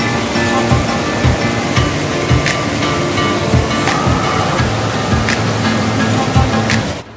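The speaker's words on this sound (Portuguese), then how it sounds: "eu vim trazer para vocês a cachoeira de Machadinho do Oeste" A steady, roaring rush of falling water fills the whole clip, broad and constant, with no voices over it.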